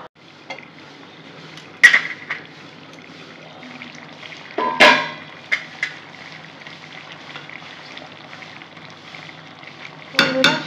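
A lid settles onto a pot of simmering vegetable curry with a few sharp metallic clanks, over a steady soft sizzle and occasional scraping in a home kitchen.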